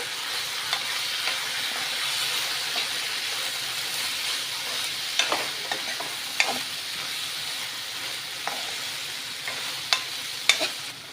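Fried egg being stirred with soy sauce in a hot pan, a steady sizzle and hiss running throughout with scattered scraping clicks of a utensil, fairly close and with no talking.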